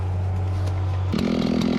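A Husqvarna 395 chainsaw cutting large hardwood drones steadily close by, then its pitch jumps higher as the engine revs up for the final moments.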